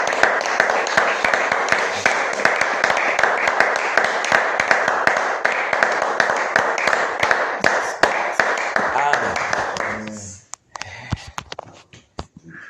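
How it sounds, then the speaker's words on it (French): A church congregation applauds for Jesus with dense, steady clapping for about ten seconds, then it thins to a few scattered claps as voices begin. "Applaudissons pour le Seigneur Jésus."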